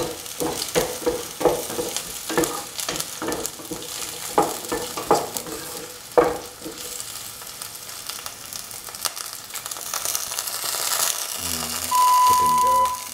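Sliced shallots fry in hot oil in a pan until golden brown, with a low crackling sizzle under repeated scraping stirs, followed by a quieter stretch and a few beeps toward the end.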